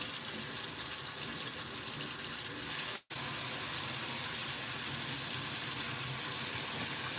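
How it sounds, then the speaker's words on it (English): Water runs from a tap into a sink in a steady, close rush, broken by one brief cut near the middle before the flow resumes at the same level; no talking. "so I'm just filling up the sink with water."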